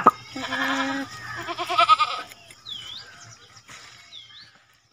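A goat gives two or three close, wavering bleats in quick succession, clear and fairly loud, followed by a few faint bird chirps in a quiet background.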